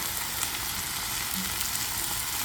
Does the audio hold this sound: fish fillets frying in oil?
yes